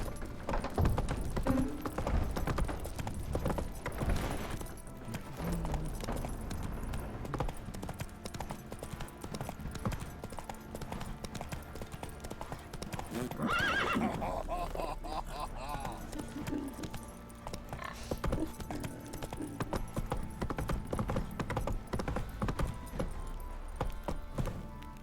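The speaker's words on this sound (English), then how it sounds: "Run, Roach" Hooves of the horse Roach clip-clop at a gallop in The Witcher 3, a steady rhythmic drumming that runs the whole time, with a voice speaking over it at points.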